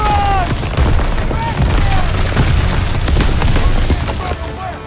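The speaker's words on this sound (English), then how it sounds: "Artillery barrage!" An artillery barrage in the WWII shooter Call of Duty: WWII, with heavy booming blasts and scattered gunfire under shouting voices, loud and sustained through the whole stretch.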